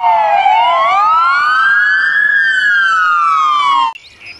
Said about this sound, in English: This is American police car.